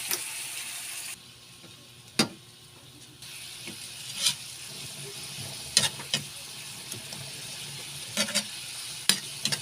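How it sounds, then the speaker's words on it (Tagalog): Soft sizzling of fish paste (bagoong isda) sautéing in a pan with occasional scraping and stirring clicks, quiet and close, continuing steadily throughout with no voices. "Gigisa ako ngayon ng ano, bagoong isda"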